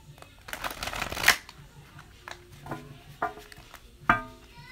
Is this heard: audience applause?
no